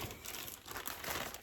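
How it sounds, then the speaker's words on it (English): Clear plastic bag of the kind yarn ships in, crinkled close up in a steady, continuous rustle with brighter crackles, no talking. "this one, clear plastic bag"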